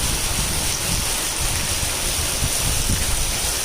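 Heavy rain pours down steadily as a dense, unbroken hiss that fills the scene at a constant loud level, with no voices.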